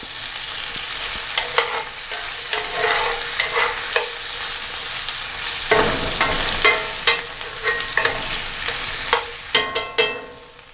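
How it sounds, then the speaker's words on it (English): Potatoes and garlic sautéing in a pan, a steady sizzle with repeated scraping and stirring clatters from a utensil, close and fairly loud, with no talking. "So we've been sauteing the potatoes for about 10 minutes"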